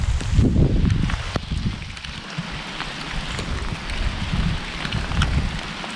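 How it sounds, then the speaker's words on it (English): Rain falling steadily across a garden in December, a soft continuous hiss with scattered drops and some low rumble or wind, close to the microphone and with no talking. "Rainy, rainy, wet, wet."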